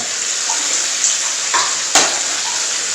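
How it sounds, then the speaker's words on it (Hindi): Fish sizzles in hot oil in a steady, close hiss with a few sharp pops and crackles spread across a few seconds. "अब इसको फ्राई करके निकालेंगे"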